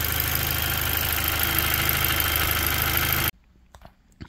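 A 2017 Chevy Malibu engine idles evenly and loudly for about three seconds before cutting off abruptly, leaving quiet room sound with a few faint clicks.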